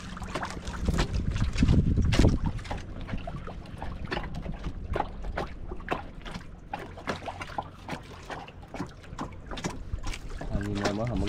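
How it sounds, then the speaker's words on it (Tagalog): Wind gusting around a small boat at sea, with rough buffeting and microphone rumble, scattered knocks and splashes, and people talking intermittently over it. "Ano, hangin na naman ito."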